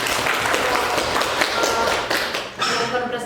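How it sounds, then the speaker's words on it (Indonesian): A classroom gives a short burst of clapping for two student groups after their presentation, with quick close claps and some voices mixed in. "kita berikan tepuk tangan untuk kedua kelompok"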